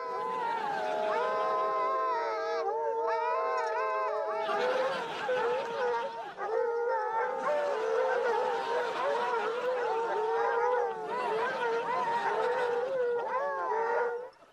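Several dogs howl together in a kennel, loud overlapping wavering howls that go on almost continuously, with brief dips between bursts.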